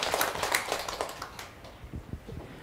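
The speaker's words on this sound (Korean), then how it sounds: "우리 영명 큰 스님께 다시 한번 큰 박수 보내주시기 바랍니다" Audience applause for a monk at the close of a dharma talk at a temple invited-teacher dharma assembly, a dense crowd clapping that fades out within a couple of seconds, then scattered claps.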